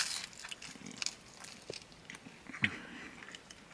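Biting into a crunchy, thin Ohio-style pizza slice gives faint, close crackling crunches and chewing clicks, scattered and irregular over a few seconds, with no voices.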